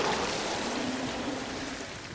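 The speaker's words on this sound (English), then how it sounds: "But that night, a violent storm roiled in. Rocked by the waves, Moana's boat ran aground on an unfamiliar island." Steady broadband rush of storm-driven ocean waves and wind around a boat at sea, a continuous loud wash with no distinct breaks and no voices.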